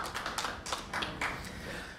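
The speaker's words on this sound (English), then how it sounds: "Same thing as before, round of applause." Scattered clapping from a conference audience at a hacker convention talk, a light patter of hands with a few stronger bursts, moderately quiet and steady throughout with no voices.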